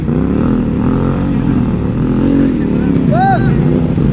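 A motorcycle ridden over rocks on a muddy trail during a storm, its engine rumbling steadily and close, with a rising whine near the end and people talking over it.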